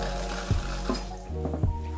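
Water runs steadily from a faucet carved out of stone in a bathroom of a contemporary minimalist mansion, a continuous close splashing hiss with a few soft knocks and no talk.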